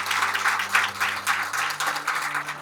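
Audience applause in an auditorium at a Madras event: steady, dense clapping that rises and falls slightly across the moment, loud and close, with a faint low hum under it.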